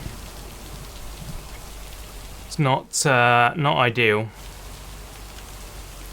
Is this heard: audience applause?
no